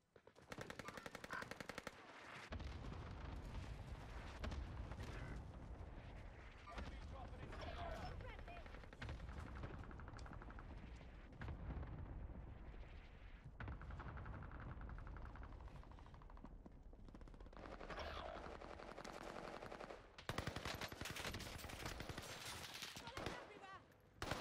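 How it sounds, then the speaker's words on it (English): Rapid SMG bursts ring out in a Call of Duty Warzone match, loud, dense automatic fire running nearly nonstop with brief gaps and a heavy closing flurry, with game explosions and effects mixed in. "I'm gonna try out this new SMG a little bit here."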